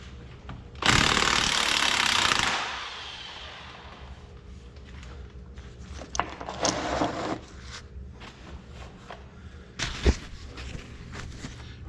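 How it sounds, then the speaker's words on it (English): An impact wrench fitted with a 3/4 inch socket spins off bolts: one loud two-second burst of hammering rattle, then shorter weaker bursts, clanks and tool handling. "So now I need a 3/4 inch socket to get those babies zipped off from there."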